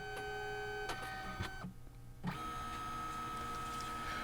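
Liene PixCut S1 photo printer running the yellow pass while printing a phone skin, a steady mechanical whir with a tonal hum that cuts out briefly midway, then resumes with a clunk.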